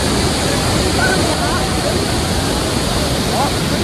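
Kawasan waterfall pours with a strong current, a loud, continuous rushing roar of water close by, with voices faintly mixed in.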